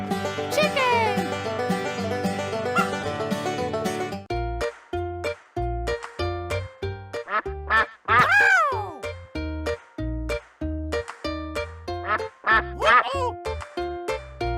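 A cartoon duck in a children's animal-sounds song quacks repeatedly in short bursts over bouncy background music, with an excited child-like voice calling out between the calls.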